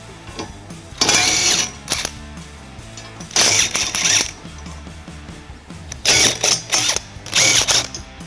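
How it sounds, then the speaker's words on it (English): Bursts of ratchet clicking from a wrench with an 11/16 socket loosening the end brackets on a 2021 Toyota Sienna during a hitch install, four or five close, loud runs of rapid pawl ticks separated by brief pauses. "We're gonna remove both end brackets. I'll be using an 11/16 socket."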